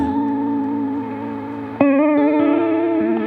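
An electric guitar runs through an effects pedal whose filter is swept by hand, a sustained wavering chord that shifts in tone, then a fresh strum and more held notes with slight modulation.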